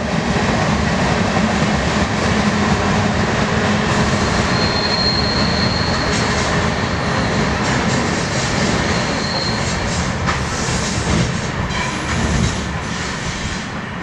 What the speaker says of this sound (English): we catch a transfer train headed west on the Peoria sub